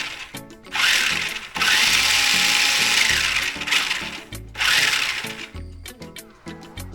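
A 1/16 scale New Bright Nissan Frontier RC truck running in four-wheel drive gives a loud, close whirring, ratcheting gear whine in several bursts of about a second or more, with clicky mechanical pauses between them.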